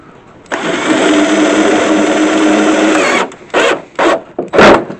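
A power drill drives a drywall screw into a fiberglass car rocker panel with a loud, steady whirring buzz for close to three seconds, followed by several short bursts as the drill is pulsed.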